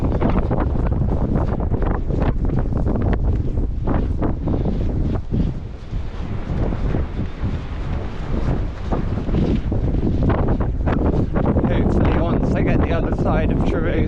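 Strong coastal wind buffets the microphone in a steady, loud roar during an ultramarathon run along the coast near a village and golf course, with a voice talking over it throughout.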